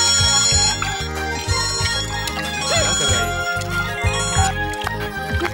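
Electronic phone ringtone playing a bright, repeating melodic pattern with a steady pulsing rhythm, loud and close, with no talk over it.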